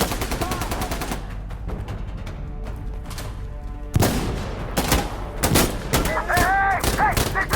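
Rapid automatic gunfire and bursts from a co-op match of the shooter game Insurgency Sandstorm, close and loud, with sharp shots and fusillades throughout and shouting voices mixed in.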